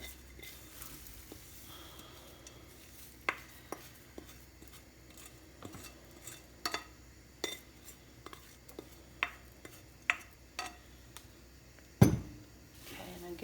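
Oats, apples and bananas stirred in a bowl with a spoon give soft scraping and scattered light clinks against the bowl, faint and close, with occasional sharper taps.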